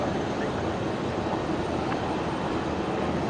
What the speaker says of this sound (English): Maybe a bit of a sporty takeoff here for the A330.